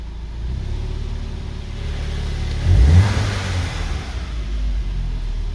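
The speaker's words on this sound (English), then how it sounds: "you might just detect us change in engine noise as we change it to race." In race mode, the engine and exhaust of a 2016 VW Golf R DSG hatchback hum at a steady idle, then rise in a short, sharp rev blip near the middle before easing back to a low rumble.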